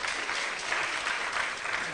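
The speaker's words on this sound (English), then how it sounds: "a round of applause for Tade Thompson" An audience at a literary awards event during the Aké festival claps in a short, even burst of applause, fairly faint and continuous throughout, without speech on top.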